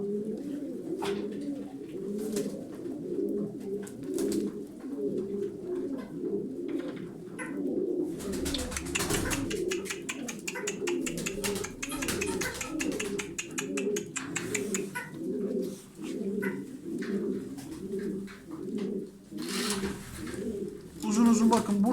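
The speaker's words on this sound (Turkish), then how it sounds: "Bakın arkadaşlar dumanlılarımız fena değil sağlıklı kuşlar" Tumbler pigeons coo continuously in soft, rolling repetitions, with rustling and scattered clicks in the background at moderate distance.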